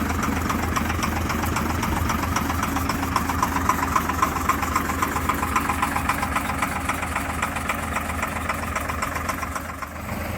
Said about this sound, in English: Characteristic engine sound.